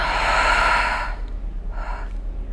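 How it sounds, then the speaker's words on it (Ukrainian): A deep inhale followed by a forceful, rushing exhale during a yoga breathing exercise, loud and close, then a second softer breath. "Глибокий вдих, максимальний видих"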